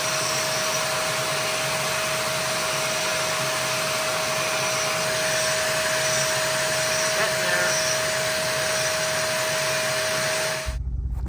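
A concrete grinder works a floor indoors while a shop vac collects the dust. Together they make a loud, steady, unbroken roar with a constant whine that runs almost the whole time, then cuts off abruptly at the end.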